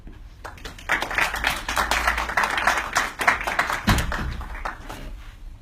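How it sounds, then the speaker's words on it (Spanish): An audience claps for a speaker at a talk, with sparse, uneven individual claps rather than dense applause, moderately loud and fairly close. "Le da un aplauso."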